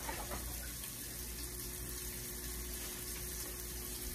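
A kitchen tap runs steadily for a handwashing, a continuous close hiss of flowing water with no breaks and no talking.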